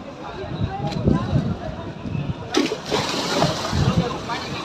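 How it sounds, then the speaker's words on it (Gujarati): Sea waves crash and splash at Gomti Ghat in Dwarka, a continuous rough wash of water with louder surges, heard up close amid crowd noise. "મોજા એટલા ઉછળે રહ્યા કે વાત જવા દો."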